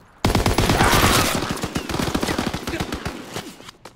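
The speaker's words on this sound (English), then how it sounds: "Taking heavy fire!" Machine-gun fire in a Call of Duty: WWII multiplayer match, a sudden loud burst of rapid shots that trails off into scattered rounds over about four seconds.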